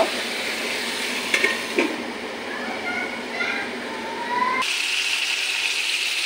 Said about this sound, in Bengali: দেখো আমার মাংসটা কি সুন্দর ভাজা হয়ে গেছে